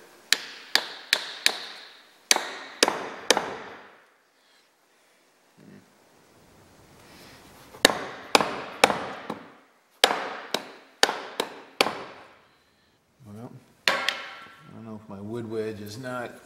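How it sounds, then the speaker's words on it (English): A hammer drives a wood wedge into the top of a tool handle with sharp, ringing blows in quick clusters of three or four, separated by pauses, up close. "I'm just gonna go ahead and drive the wood wedge at this point"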